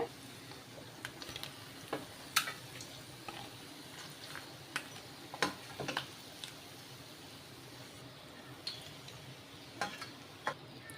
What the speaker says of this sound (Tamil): மாற்றி போட்டு ஒரு நிமிஷம் பொரிய விடலாம்